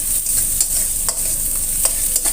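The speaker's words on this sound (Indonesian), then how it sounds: "Di sini bawang putihnya. Ini tumis sampai sedikit harum ya." Garlic sizzles as it is stir-fried in a pan for a spicy milkfish sambal, a steady close frying hiss with occasional sharp crackles and spatula scrapes, and no voices.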